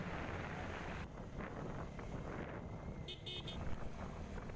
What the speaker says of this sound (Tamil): சும்மா அப்படியே ஜில்லு ஜில்லுன்னு காற்றடிக்குதுங்க எனக்கு